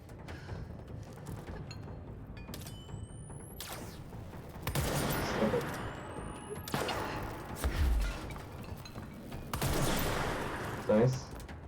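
Spin gun firing in the game Control, sharp bursts of gunfire and mechanical clatter in several loud clusters with quieter gaps between, with someone talking at times.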